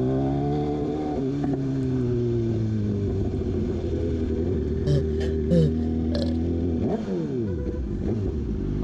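A motorcycle engine revs steadily and loudly up close, its pitch holding then rising and falling, with a sharp rev surge near the end and brief clatter over the rumble.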